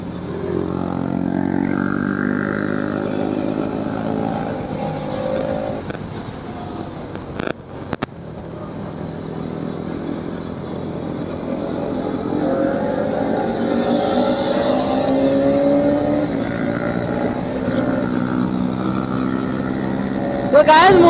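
Motorcycles race in a wheelie competition, giving a continuous loud engine roar that rises and falls as bikes rev and pass. A few sharp knocks stand out over the din, along with faint background voices.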